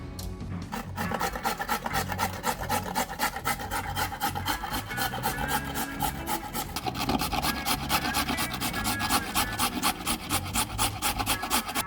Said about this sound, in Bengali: এটা আমি ঘষুনিতে ঘষে নেবো